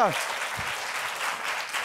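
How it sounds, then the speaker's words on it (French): An audience at a holiday talent-contest final applauds a performing group with steady, moderately loud clapping, while a voice briefly speaks over it. "Très bien, on va les applaudir."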